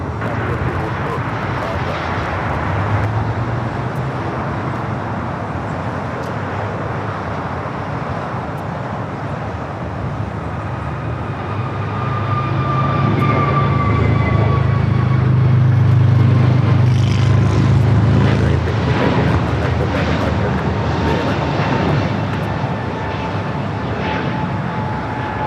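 Aircraft engines roar steadily at LAX airport as planes taxi and a Korean Air cargo jet is pushed back, with a loud swelling rumble midway and faint engine whine throughout.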